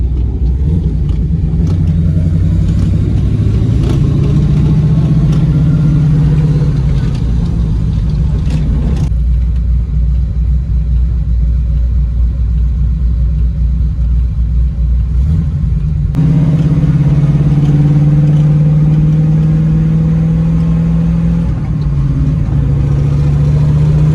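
A 1968 Chevrolet Camaro SS muscle car's V8 engine rumbles loudly and steadily while driving around town, with several rising revs and gear-change swells, dropping briefly to a quieter idle-like stretch before surging again.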